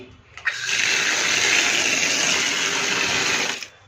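Water gushes steadily from a tap for soaking old clothes, a loud continuous rush starting abruptly and stopping just before the end.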